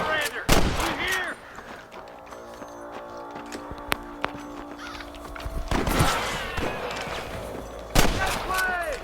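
Sniper gunfire in the Red Dead Redemption video game: a few sharp, loud cracks spaced several seconds apart, with hoofbeat-like clatter and game voices shouting between the shots.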